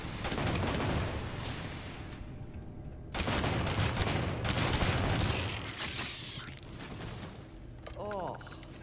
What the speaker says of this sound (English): This suppressor on this thing doesn't suppress shit.